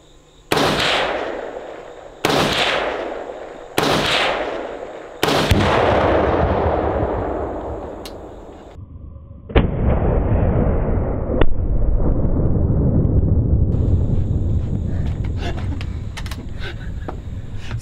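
Rifle fire at an outdoor shooting range, an HK 416-style rifle: four loud, sharp shots ring out close, spaced about a second and a half apart, each with a long echoing tail, and a few fainter distant shots follow.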